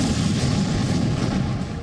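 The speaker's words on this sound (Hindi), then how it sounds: "थोड़ी ही देर बाद जोरदार धमाका होता है।" A bridge in Ukraine is blown up in a loud, close blast that rolls into a heavy, sustained rumble lasting about two seconds, with no voices.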